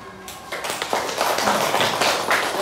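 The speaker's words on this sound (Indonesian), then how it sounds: "boleh tepuk tangan" A classroom of students applauds, starting softly and building into a steady patter of many hands clapping for a couple of seconds.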